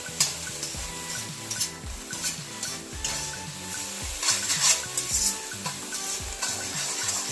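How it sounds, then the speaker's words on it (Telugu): Egg fried rice is stirred in a pan over a high flame, a spatula scraping and clattering in quick rhythmic strokes over a steady bright sizzle, close and fairly loud, with no voices. "మంచిగా హై ఫ్లేమ్లో స్టీర్ చేసుకోవాలి."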